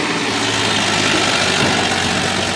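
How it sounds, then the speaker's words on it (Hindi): A Farmtrac 45 tractor engine labours steadily while pulling a loaded sugarcane trolley through a wet field, a loud, continuous low diesel rumble with no talk over it. "अब इस ट्रैक्टर की ताकत देखना, महिंद्रा तो रुक गया था, ये उससे मजबूत ट्रैक्टर है।"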